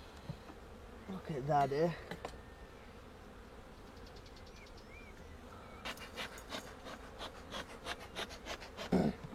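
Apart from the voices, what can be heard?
honeybees buzzing at an opened hive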